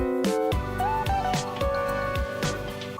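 Guitar playing three inversions of the same chord, then a short melody line over a beat with punchy low drum hits, loud and continuous with no talking.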